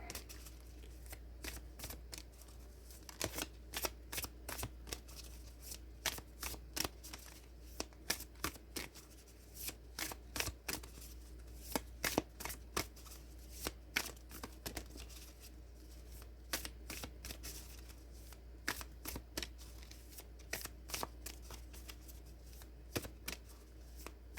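A tarot card deck is shuffled by hand, dozens of crisp sharp riffles and snaps in quick irregular bursts, close and clear over a low steady hum.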